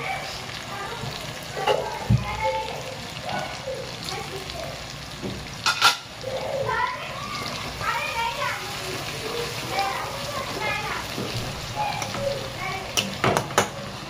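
Ginger garlic paste frying hard in a pan, a continuous sizzle with utensil clinks and a few sharp knocks, under frequent talk and children's voices in the background.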